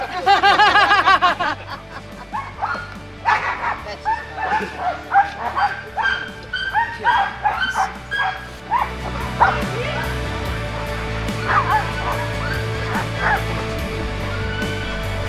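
Sled dogs at a summer dog sled camp in Juneau bark, yip and whine in a dense, excited chorus, loud and close at first and then continuing in overlapping bursts, with some voices mixed in.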